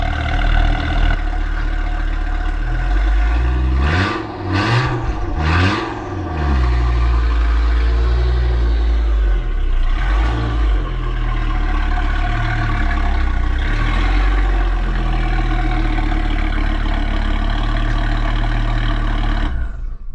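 A five-cylinder turbo engine revs sharply a few times, then settles into a steady, loud, rumbling idle that runs on to the end, with no voices.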